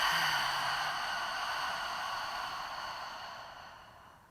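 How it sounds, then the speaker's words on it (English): A person breathes out slowly through the mouth during a guided core-care exercise, a steady breathy exhale close to the mic that fades gradually over about four seconds, with no talking. "Take a full breath in, filling the belly, then filling the chest. And exhale here through the mouth."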